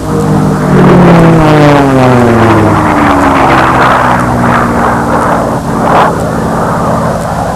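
Model racing airplanes on speed runs at a 2004 Brodak Fly-In: a loud, continuous high-pitched engine whine whose pitch keeps rising and falling as the planes circle, with no talk.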